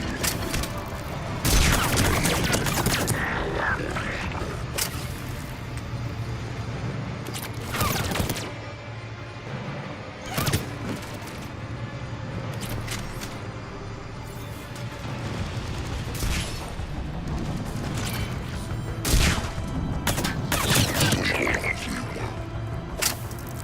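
Constant gunfire in the video game Mass Effect 3, with rapid bursts and louder single shots packed together. Battle noise continues at a steady high level, and voices occasionally break through the shooting.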